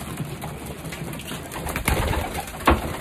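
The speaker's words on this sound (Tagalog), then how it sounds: "Yan, yung mga kalapati ni Mr. Nakamura." Pigeons in a loft give low, soft coos under steady background noise, with a few brief bursts of activity near the end.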